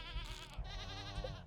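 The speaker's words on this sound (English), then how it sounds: "All 4 goats are here." Goats bleating on a farm in the Stardew Valley video game, a continuous wavering bleat filling the short clip, loud and close with no talk.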